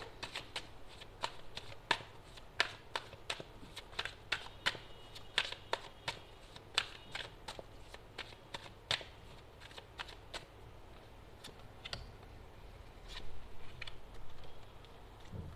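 A deck of tarot cards is shuffled and riffled by hand in bursts of crisp snapping flicks and soft slides, close and fairly quiet, with no one talking.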